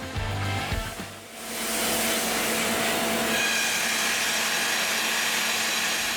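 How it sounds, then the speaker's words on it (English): An electric boring machine with a huge hammer drill tunnels into the rock wall of a gold mine, giving off a steady, loud grinding roar after a brief rumbling start, with no talk over it. "A huge hammer drill bites into the wall and tunnels further and further"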